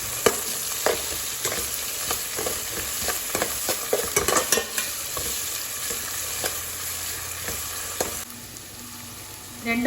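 Four dried red chilies fry in hot oil in a pan, a steady close sizzle broken by repeated clicks and scrapes of a spoon stirring, quieting briefly near the end.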